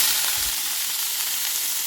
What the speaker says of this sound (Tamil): இப்போ அதே நெய்யில் வந்து நம்ம அந்த கேரட்டை நல்லா வதக்கிக்கலாம்.